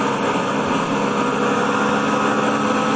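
Engine of a Fieseler Storch airplane at full throttle in the FlightGear flight simulator, a steady, loud, droning roar with no variation and no voices.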